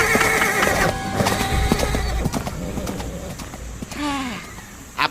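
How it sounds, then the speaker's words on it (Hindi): A horse whinnies in a Hindi audio drama, a rising and falling call near the end standing out over a busy layered mix of ambience, hoofbeats and bird coos. "अरे ओ घोड़े, भागता कहाँ है?"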